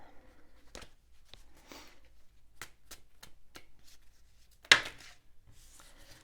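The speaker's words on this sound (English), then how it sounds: "I'm not shuffling very well right now." Oracle cards being shuffled by hand: a run of soft, papery riffles and flicks in an uneven rhythm, close and fairly quiet, with one sharper riffle near the end and no talking.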